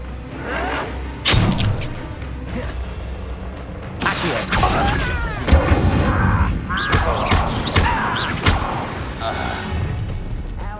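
Spell effects for Accio and Incendio in the video game Hogwarts Legacy: several loud, sharp bursts and crashing impacts follow one another over a busy stretch of game sound, with a voice calling out in places.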